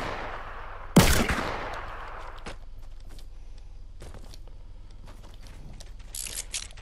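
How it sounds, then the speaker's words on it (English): A sharp gunshot blast in Fortnite followed by mechanical clicks and clacks of reloading a gun, a short ratcheting sequence with separate metallic snaps spread over several seconds, close and fairly clear. "Gotta reload really quick"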